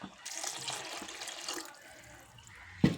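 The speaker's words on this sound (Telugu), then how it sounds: "ఇప్పుడు వాటర్ వేద్దాం కొంచెం ఒక గ్లాస్ వాటర్" A glass of water poured into a pan of egg and lentil curry gives a quiet splash and trickle lasting about a second and a half, then a short clunk near the end.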